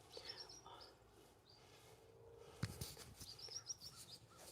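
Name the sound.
birds chirping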